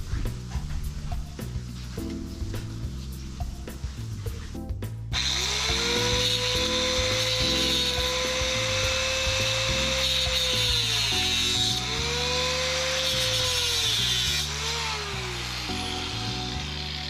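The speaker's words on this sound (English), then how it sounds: "So those are too long, so I need to cut those off." Too-long 4-inch bolts on a gate latch are cut down with a power tool, a loud continuous whine rising and falling in pitch over rapid ratcheting clicks, running steadily for most of the clip.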